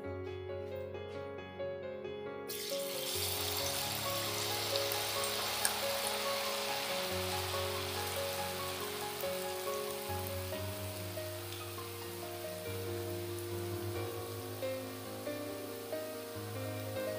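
Pitha batter drops into hot refined oil. After a quiet couple of seconds, a sudden loud, dense sizzle begins and keeps crackling steadily, with faint tonal music underneath.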